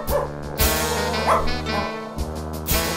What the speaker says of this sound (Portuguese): Opa, já tem um cachorrinho esperando aqui, Flávia